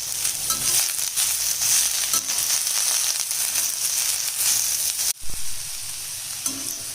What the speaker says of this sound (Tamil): இப்போ பாருங்கள், பீர்க்கங்காய் கொஞ்சம் பாதி வதங்கிடுச்சு